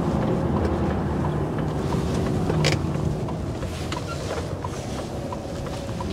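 A truck's engine drones steadily and loudly while driving on a city route with one axle lifted, heading to Pendik port. Wind buffets the microphone throughout.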